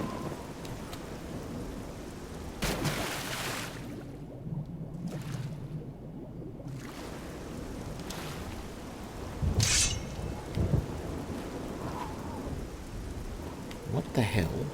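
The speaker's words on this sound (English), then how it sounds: "Every time I go outside for an extended period of time, it starts raining." Steady rain falls throughout the Oblivion video game world, broken by several loud cracks and rolling rumbles of thunder, some close and sharp, others deep and drawn out.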